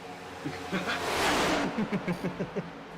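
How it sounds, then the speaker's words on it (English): A car speeds past nearby outdoors, a broad rising and fading whoosh peaking midway, while people talk over and around it. "a car went flying by"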